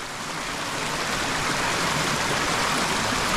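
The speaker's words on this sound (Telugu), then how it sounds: "చూసారు కదా ఇంకా ఎలా జలపాతాలు ఎన్ని ఉన్నాయో" Waterfalls and streams run off rain-soaked hills near Srisailam dam in a close, continuous rushing roar that builds slightly and stays steady, with no voices.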